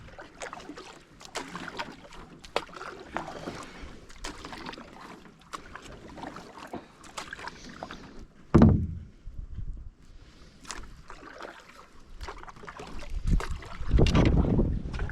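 Kayak paddles dipping and pulling through lake water at Kettle Lakes Provincial Park, with irregular splashes and drips, a louder splash midway and a busier burst of paddling near the end, fairly close.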